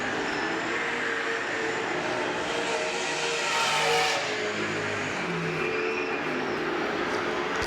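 Saloon race cars circle Baypark Speedway, a continuous loud roar of engines and tyres that swells as the pack passes near, with no clear voices over it.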